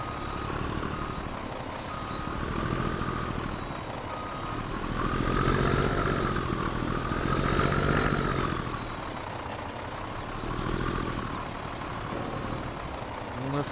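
A Kenworth W900 semi truck in Farming Simulator reversing, its engine rumbling and rising and falling in pitch under a steady, repeating high backup beep, close and continuous throughout.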